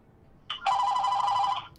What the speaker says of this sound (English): Hold on, the phone's ringing.